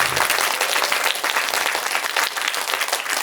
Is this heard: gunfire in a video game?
no